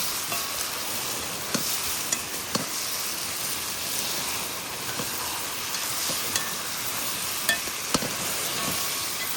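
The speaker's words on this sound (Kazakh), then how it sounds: "осылай майда етті жақсылап қуырып аламыз." Meat frying in oil for plov in a pot outdoors by the Caspian shore, a soft continuous sizzle with occasional sharp clicks and scrapes of stirring.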